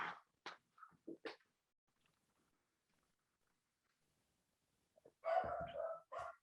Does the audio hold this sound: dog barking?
yes